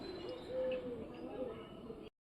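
Domestic pigeons coo in soft, low repeated calls close by, over faint background noise, ending abruptly.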